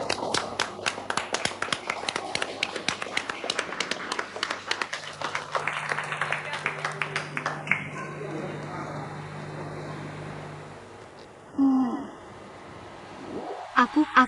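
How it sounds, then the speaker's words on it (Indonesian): Applause and scattered clapping from a small group greeting a new coworker at the office, steady and moderately loud, fading into quieter room noise with a brief louder rustle near the end. "Berikan dia tepuk tangan"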